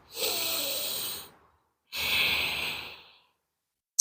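Slow yoga breathing: one long airy inhale through the nose, a pause, then a long audible exhale, close and soft, with a brief click at the end and no talk.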